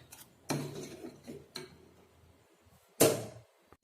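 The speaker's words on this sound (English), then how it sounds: "Now I'll off the gas and dish it out." Ladle or spoon clinking against a pot while makhana kheer is served out, a few sharp metallic knocks spaced irregularly with quiet gaps between, close and moderately loud.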